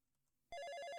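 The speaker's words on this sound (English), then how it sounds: "Just then, the telephone rings in the next room." After a near-silent moment a telephone in the next room suddenly starts ringing in Police Quest I, a loud, bright electronic bell warble that continues to the end.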